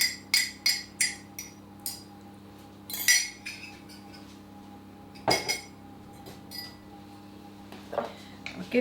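Beaten eggs get mixed into fruit cake batter in a bowl, heard as a series of sharp utensil clinks against the bowl in irregular bursts over a quiet background hum.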